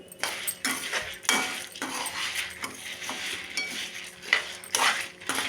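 Toor dal roasts dry in a pan to a golden colour, with a spoon scraping and clinking against the metal in repeated strokes, close up and fairly faint, and no voices.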